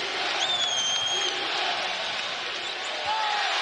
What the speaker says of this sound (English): This crowd is really getting into it.